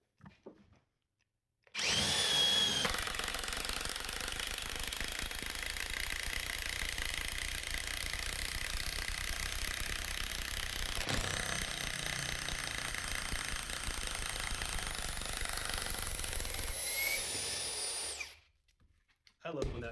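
A DeWalt drill drives a screw into wood in speed 3, a steady loud motor whine running about fifteen seconds with a brief dip midway before stopping.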